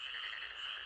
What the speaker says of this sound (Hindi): तो उसने पास में रहने वाले मेंढकों का सुंदर गीत सुना।